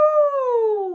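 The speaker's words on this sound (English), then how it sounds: "He howled and howled as loud as his doggy lungs would let him." A sausage dog gives one long, loud, clear howl that slides steadily downward in pitch, heard alone and close.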